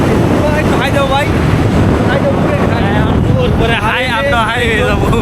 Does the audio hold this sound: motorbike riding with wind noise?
yes